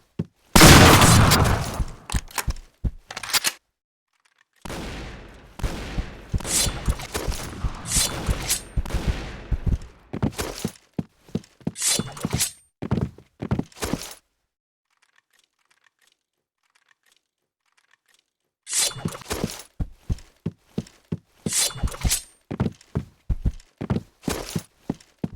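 Shotgun fire in the video game Point Blank comes as rapid clusters of sharp blasts and clicks in bursts, with a long quiet gap midway before more shots.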